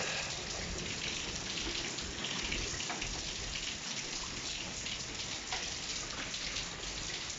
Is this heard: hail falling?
yes